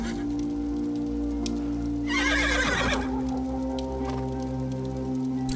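A horse in the Smuta video game lets out one clear whinny midway through. It rises over a steady droning game soundscape with faint clicks and no speech.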